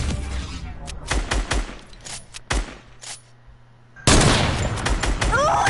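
Rapid bursts of video game gunfire crackle in uneven volleys, some close and sharp, followed by a dense, louder stretch of shooting near the end, with voices talking intermittently.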